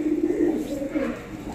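Sialkoti pigeons cooing close by, a soft throaty warble rising and falling across a brief stretch, nearly alone with little other sound.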